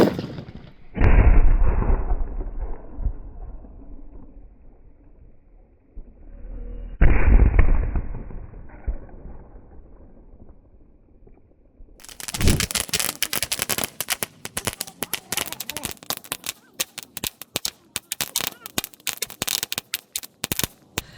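Diwali firecrackers from Sivakasi go off outdoors: two loud single blasts with long ringing tails, then a dense, continuous crackling barrage of rapid pops that keeps going without pause.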